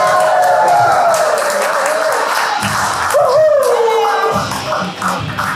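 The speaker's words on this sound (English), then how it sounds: "Let's bring a big round of applause for Supreme Court Jester." A round of applause for the improv group Supreme Court Jesters at a short-form improv show, loud and close with some whoops and shouts mixed into the clapping.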